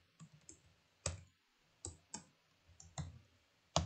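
Keys clicking on a computer keyboard while code is typed, a few scattered short bursts of taps with quiet gaps between, close and fairly soft.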